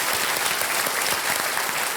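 Dense, sustained studio audience applause on the Kaun Banega Crorepati game show, a steady wash of many hands clapping at once, loud and continuous with no talking.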